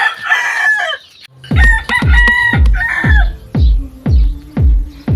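Gamefarm chickens cluck loudly and repeatedly in a steady rhythm, with a rooster-like call at the start; close by, no talking.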